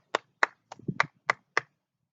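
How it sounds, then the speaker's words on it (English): Hands clap during a children's story time, giving six sharp evenly spaced claps with a soft patter of shuffling in the middle, close and clear against near silence. "We can clap, clap, clap."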